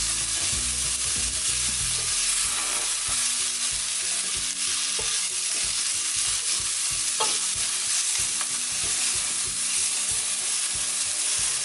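Tomatoes and chilies fry in a pan for a Goan prawn curry while a spoon stirs, steady loud sizzling close up with repeated scraping and clatter against the pan, no one speaking.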